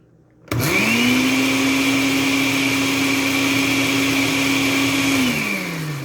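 A food processor blends mayonnaise. Silence gives way to a sudden loud motor whir that holds a steady high drone for several seconds, then winds down near the end.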